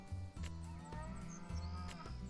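Cattle in the Farm Manager 2021 video game, several long, low moos following one another closely and clearly audible, with faint game ambience and no talking.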